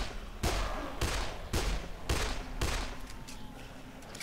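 Gunfire in the video game Dead Island: five evenly spaced heavy gunshots, each a sharp loud crack with a decaying tail, close and prominent, followed by lingering game ambience.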